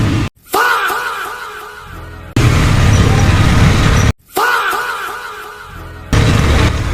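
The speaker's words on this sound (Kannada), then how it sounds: "ನಮ್ಮ ಬೈಕ್ ಎಕ್ಸಾಸ್ಟ್ ಸೌಂಡ್ದು ಎಕೋ ಬರುತ್ತಲ್ಲ" A motorcycle exhaust is revved hard with an echo, the engine note rising in two loud, near bursts, each cut off abruptly and followed by a booming roar.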